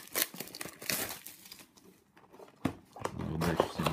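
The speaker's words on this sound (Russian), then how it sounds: "Вскрывать будем блок под номером 22-16." A sealed box of 2017 KHL Gold Collection hockey cards is opened, its plastic wrapper crinkling and tearing up close in irregular bursts, with no talking.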